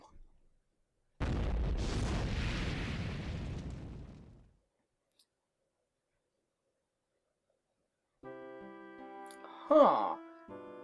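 A Firestorm fire spell in Valkyrie Profile erupts as one loud roaring burst that fades over about three seconds, followed by silence and then a tonal game sound with a brief bright flare.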